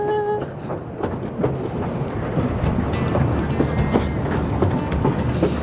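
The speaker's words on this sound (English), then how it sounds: "This train is now a heritage train for tourists and families." A heritage tourist train rolls along the rails near Waihi, its steady rumbling clatter and wheel noise carrying throughout over wind buffeting, with a brief horn-like tone at the start.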